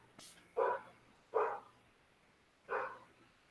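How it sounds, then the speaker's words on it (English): A dog barks three times at a moderate distance, the barks spaced out with pauses between them, over a quiet room background. "I hear dogs"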